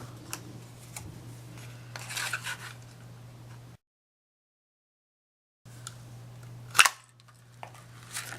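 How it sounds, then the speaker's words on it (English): A handheld ticket punch snaps through paper, a single sharp, close click near the end, set against a low steady hum after a stretch of silence, with no talking. "take the ticket punch and punch out your winners"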